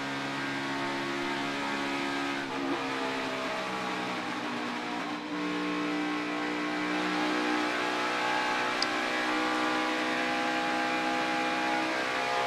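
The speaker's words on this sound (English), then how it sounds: "listening to the RPMs and Kevin Harvick work the throttle" The NASCAR race car engine of Kevin Harvick at the Dixie Vodka 400, revving as he works the throttle: a sustained, fairly distant engine drone with shifting RPM pitch, steady and moderately loud throughout.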